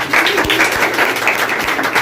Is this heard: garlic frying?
no